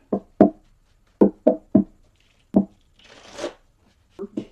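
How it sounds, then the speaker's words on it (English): Tarot cards being shuffled and handled up close: a series of crisp taps and slaps in an uneven rhythm, with one short papery riffle partway through. "I'm going to give them 3 more shuffles and then I will cut them"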